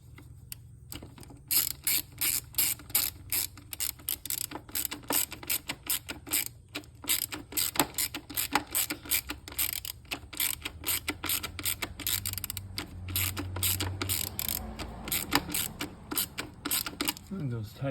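A ratchet with a 10mm socket tightens bolts while installing an air box on a Porsche 928, a rapid series of close, crisp pawl clicks in repeated bursts with short pauses between.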